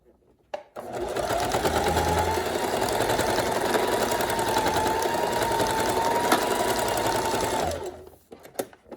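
A sewing machine runs a straight stitch on swimwear fabric, a steady, fast mechanical whir that holds evenly for about seven seconds before stopping.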